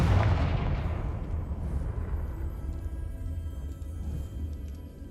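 Confringo fire-blast spell in Hogwarts Legacy, a single heavy explosive boom at the start with a deep rumbling tail that fades over several seconds, loud and close, no speech.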